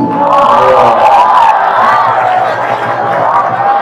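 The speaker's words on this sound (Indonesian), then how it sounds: "Tepuk tangan lagi" Crowd cheering and clapping at a school Maulid Nabi celebration, loud and sustained with whoops and a high voice or tone sliding over the noise throughout.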